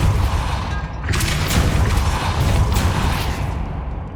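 The Depulso spell is cast in a Harry Potter video game, producing a loud, close whooshing blast with booming, rumbling impacts over several seconds.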